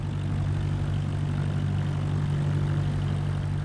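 Airplane engine droning steadily while taxiing in Microsoft Flight Simulator 2024, a loud, continuous propeller hum with a strong low tone and no talk over it.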